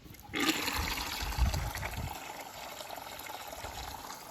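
Water gushes into a bucket in a loud splashing rush that begins half a second in and then settles into a steady filling stream.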